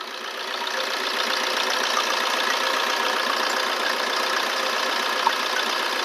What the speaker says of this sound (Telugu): diesel engine,